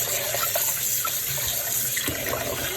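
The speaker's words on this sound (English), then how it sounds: "Rinse your meat really good" Raw pork is rinsed under a running kitchen tap, with a continuous steady splash of water into the sink and small irregular sloshes as the meat is moved in the stream.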